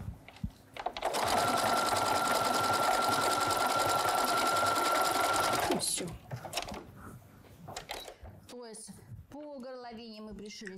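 A sewing machine stitches a knitted fabric neckline in one loud, steady five-second whir of rapid needle clatter. It stops abruptly, and a voice then talks over faint handling sounds.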